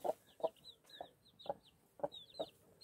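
A hen with her three newly hatched chicks clucks in low, steady bursts about twice a second while thin, high chick peeps chirp repeatedly between them, close and moderately quiet.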